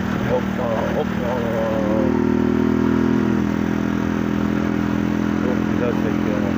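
A motorcycle rides through heavy traffic with a continuous engine drone and rising revs, close and loud, with someone talking over it at times.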